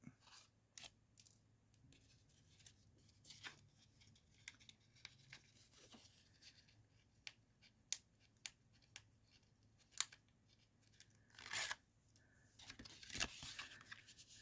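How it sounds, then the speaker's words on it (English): Release tape is peeled off a layer of cardstock in faint, scattered rips and crinkles, with a longer tearing stretch toward the end, close and quiet. "Just remove the rest of the release tape."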